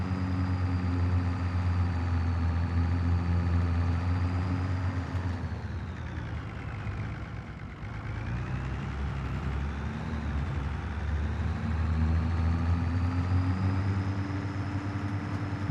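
A tractor engine in the farming game Farming Simulator 25 drones steadily from inside the cab, its pitch dipping and then climbing again midway through, with no voices.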